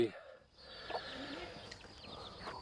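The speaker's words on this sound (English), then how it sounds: "We've got a bantam hen and she's now got 7 chicks." A bantam hen with her seven chicks clucks in soft, scattered bursts, close by and fairly quiet over a steady outdoor background.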